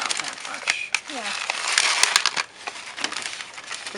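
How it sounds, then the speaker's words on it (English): Water-absorbing vase crystals pouring into a plastic zipper bag, a close, continuous gritty rattle and crinkle with sharp clicks, while a voice talks over it. "the kind of crystals that you use in a vase."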